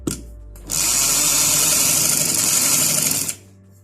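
A sewing machine runs in one steady, loud burst of about two and a half seconds while stitching a shalwar. It starts and stops sharply, with a quiet pause before and after and no talk.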